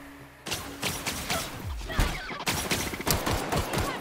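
Video game gunfire in The Outer Worlds, a firefight of repeated sharp shots and bursts at an uneven rhythm, close and punchy, following a quieter opening moment.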